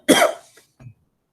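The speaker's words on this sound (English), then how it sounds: "Cough, cough, cough." A single person coughs once sharply and close, followed by a softer short throat sound.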